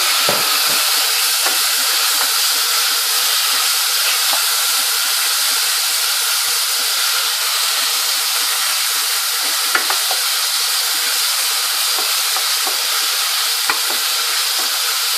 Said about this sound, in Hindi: नमक मिर्ची और ये जो हल्दी और क्रश मिर्ची है ये डाल के इसको थोड़ा सा फ्राई करना है